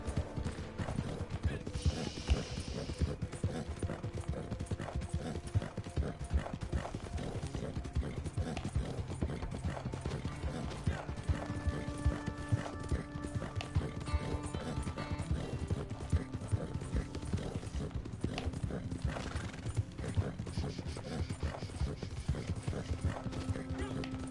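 Horse hooves clip-clop steadily throughout a ride in the Western game Red Dead Online, with occasional whinnies, ambient game sounds and someone talking over it.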